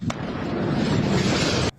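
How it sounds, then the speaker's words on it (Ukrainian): Powerful explosions from Israeli bombing of the Syrian port city of Tartus at night: a loud, dense roaring blast sustains for under two seconds, then cuts off abruptly. "Дуже потужні вибухи"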